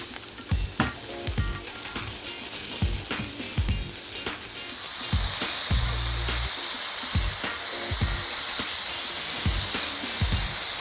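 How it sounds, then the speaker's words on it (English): Onions sizzle and fry steadily in a hot pan as they cook down to golden and caramelised for a double cheeseburger, with a continuous crackling hiss, occasional stirring clatter, and the sizzle growing louder partway through. "cook off your onions there. So that's what we're looking for. We're looking for our onions to be nice and golden, caramelised."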